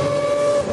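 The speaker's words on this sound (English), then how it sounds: "That brap, brap, brap sound happens in rotary engines" A rotary race car engine revs at high RPM on a track, a loud sustained buzzing whine held at a steady pitch for under a second.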